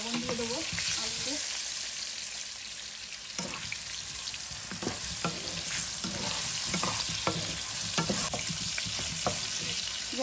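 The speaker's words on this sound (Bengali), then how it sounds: "আমার আলুটা অনেকটা ভাজা হয়ে গেছে, এখন আমি এটাকে তুলে নেব" Salted potatoes sizzle in a wok, a constant frying hiss broken by repeated spatula scrapes and stirring knocks, close and unaccompanied by speech.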